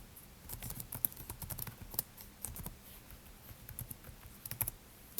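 Quick, light taps on a computer keyboard come in short bursts of clicks, close and fairly quiet, with brief pauses between bursts and no talking.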